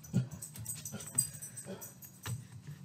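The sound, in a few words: dog whimpering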